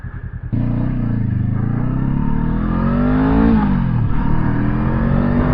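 A Honda CL500 scrambler with a 46-horsepower parallel-twin engine pulls away and accelerates hard, its loud close engine note rising steadily in pitch through the gears with a brief dip at a shift, alone without talk.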